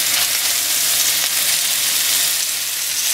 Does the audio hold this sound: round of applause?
no